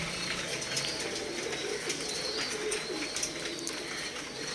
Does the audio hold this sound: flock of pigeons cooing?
yes